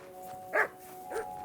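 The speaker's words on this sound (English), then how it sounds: "Bark, bark." A dog in Kingdom Come: Deliverance 2 gives two short barks about half a second apart, moderately loud over a steady low in-game hum, with no talking.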